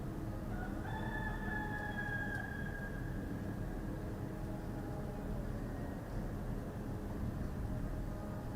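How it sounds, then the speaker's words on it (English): A rooster crows somewhere in the distance amid a steady low background hum, a single drawn-out call early on that fades into the constant ambient drone, with no voices. "Listen to the rooster."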